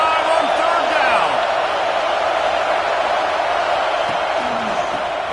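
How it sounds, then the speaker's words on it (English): A stadium crowd roars in a college football video game at an Ohio State Buckeyes home game, a dense, sustained wash of cheering that stays loud and steady throughout. "The Buckeye crowd alive on 3rd down."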